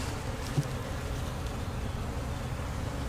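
Honeybees swarm around a neglected swarm trap, giving a close, dense, continuous buzzing hum with one brief bump, and no talk.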